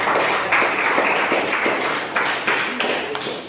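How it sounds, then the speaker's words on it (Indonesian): Classroom audience clapping together, a dense run of handclaps at fairly even loudness with several sharper bursts, close and steady for a few seconds with no voices over it. "Nah, tepuk tangan."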